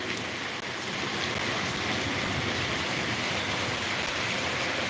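Heavy downpour over streets flooded with standing and flowing water in Bathinda, a dense, loud, continuous roar of rain and running water with no pause and no voices.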